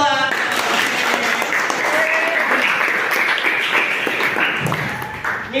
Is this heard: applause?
yes